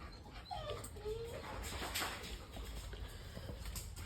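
A dog with extreme separation anxiety whimpers in short, faint, high whines over steady background noise and soft pattering.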